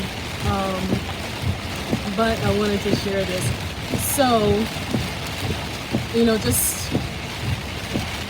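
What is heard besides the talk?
heavy rain heard while driving a car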